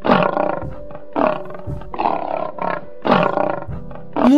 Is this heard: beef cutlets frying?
no